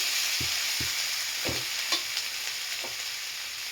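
Prawn shells fry in a pan for a curry, a steady close sizzle with a few soft stirring knocks scattered through, no voices.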